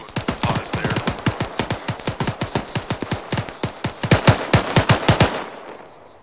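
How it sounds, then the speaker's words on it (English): Rapid automatic AK rifle fire in the military shooter game Arma 3, a steady stream of about thirty loud, close shots over roughly five seconds, ending abruptly with no talk. "That sounds uh, like an AK."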